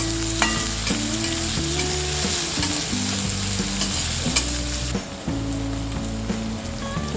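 Finely chopped capsicum fries with softened onions on a tawa for street-style masala pav, a loud continuous sizzle under rhythmic metal scraping and stirring strokes.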